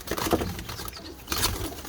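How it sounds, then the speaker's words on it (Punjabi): A pigeon fancier's flying pigeons coo close by in short, soft throaty bursts, one near the start and another toward the end, over a quiet background. "ਸ਼ੌਕ ਕਰਾਓ ਜ਼ਰਾ ਕਬੂਤਰਾਂ ਦਾ ਜਨਾਬ।"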